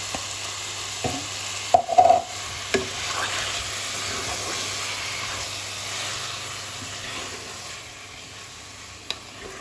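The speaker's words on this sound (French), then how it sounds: "Voilà, on va rajouter notre persil. Voilà. Et on mélange bien tranquille." A potato and chicken gratin mixture with olives and parsley stirred in a pan, giving a faint hiss and a few clustered scrapes and knocks of the spoon early on, then a quieter steady simmer.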